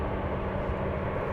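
A Boeing 747 Dreamlifter cargo jet at Anchorage airport gives a loud, continuous low engine roar, broadband and steady, with no pauses or voices.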